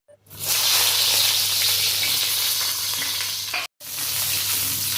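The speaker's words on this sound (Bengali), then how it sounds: "বেগুনগুলো ভেজে নেব।" Eggplant pieces fry in hot oil in a pan, a loud, steady sizzle that starts abruptly, holds strong, cuts out briefly near the end, then resumes.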